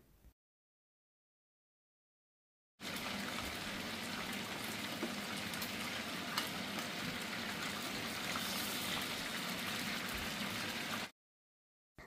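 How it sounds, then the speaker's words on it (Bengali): Chicken pieces frying lightly in hot oil for a party dish, a steady dense sizzle running for about eight seconds after a short silence, loud and continuous with no talk. "এখন আমি এটা তেলের মধ্যে হালকা করে ভেজে নেব"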